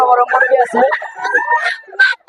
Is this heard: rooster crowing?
yes